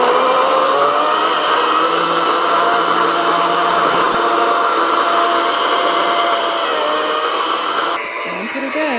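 A battery-powered saw cuts up a felled tree with a continuous, loud whining buzz that holds steady for several seconds before easing off at the end.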